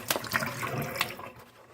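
Water being poured out of a plant watering bottle, a short splashing gush with a few gurgles that tails off into quiet after about a second.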